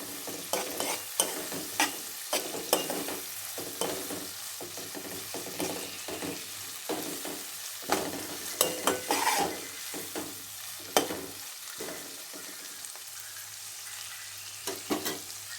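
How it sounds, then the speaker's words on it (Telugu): Onions and prawns sautéing in a little oil for a prawn curry, stirred steadily with a spoon: soft sizzling under a string of scraping, clattering stirs, fairly close, with no talk. "ఆనియన్స్ ప్లస్ రొయ్యలు ఇలా కొంచెం సేపు మగ్గాలి"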